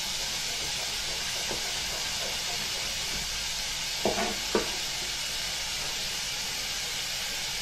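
Ingredients gently sweating in a frying pan with chopped fresh mint, a steady, quiet sizzle and hiss throughout, with a few light clinks of a utensil against the pan near the end.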